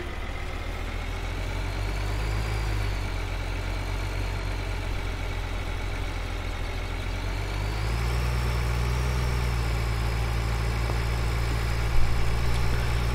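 A tractor engine held at full throttle in Farming Simulator 2013 drones steadily and loudly throughout, its pitch stepping up about two-thirds of the way through as the revs climb, with no talking over it.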